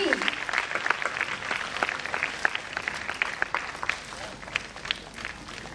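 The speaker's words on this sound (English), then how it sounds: "A huge round of applause." Audience applause at a logo launch ceremony, a steady patter of many hands with sharp individual claps standing out, moderately loud and continuous throughout.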